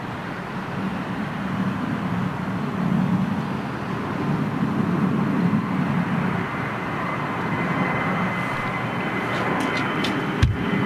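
A British Airways Boeing 787 Dreamliner with Rolls-Royce Trent 1000 engines roars steadily for the whole stretch, a sustained broad jet rumble with no voices.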